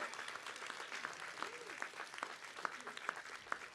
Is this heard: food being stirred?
no